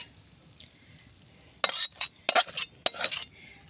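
Chicken curry with eggs is transferred from the cooking pot into a bowl with clinks and scrapes of a utensil against metal. Short bursts begin partway in and repeat several times, close and moderately loud.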